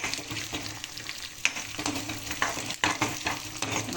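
Tomato and tamarind sautéing in a pan for chutney, with a steady crackling sizzle and repeated scraping stirs close by, no voices.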